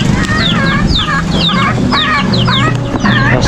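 Several chickens cluck and squawk close by in a backyard garden, a busy overlapping chorus of rising calls repeating throughout over a low steady background hum.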